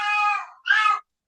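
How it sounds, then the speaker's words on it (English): A house cat gives two short, clear meows in quick succession, close and fairly loud, with no other sound around them. "That's my cat."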